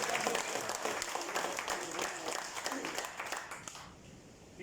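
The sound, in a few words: audience applause at a meeting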